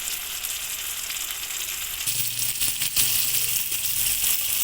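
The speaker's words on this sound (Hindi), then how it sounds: "टमाटर हमारे पक रहे हैं, थोड़ा सा कलर आ जाए" Tomatoes for a tomato chutney sizzle and fry steadily in a pan, a loud continuous crackle close by with a faint stirring scrape partway through.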